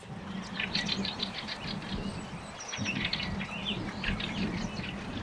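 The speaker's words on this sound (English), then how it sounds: "There's so much bird song today." Birds singing outdoors in the countryside on a spring day after snowmelt, with scattered chirps and tweets over a steady low rumble of wind or distant ambience, faint and fairly distant, with no voices.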